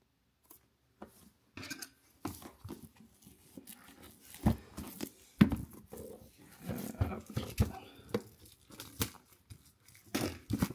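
Pokémon Evolutions Prismaclim super premium box being unwrapped, with repeated close tearing and crinkling of wrapping in irregular bursts, growing busier and louder toward the end.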